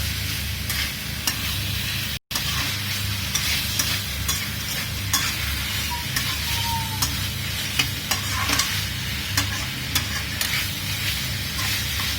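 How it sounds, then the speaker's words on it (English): Mangalorean pork curry frying in a pan and being stirred, with a steady close sizzle and repeated scraping strokes of the spoon throughout, briefly cut off near the start. "Give it a nice stir."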